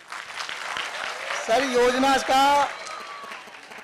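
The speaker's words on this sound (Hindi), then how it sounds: "एक बार फिर से तालियां हो जाए।" Audience applause at a public government outreach event in Muradabad, a steady patter under someone speaking loudly in Hindi over it.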